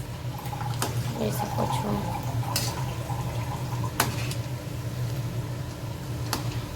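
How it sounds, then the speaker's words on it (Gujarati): Bati dough balls frying in oil for dal bati give a steady, soft crackling hiss with a few sharp clicks and pops, heard close up under a woman's brief speech. "અને અહીંયા તળાઈ રહી છે બાટી."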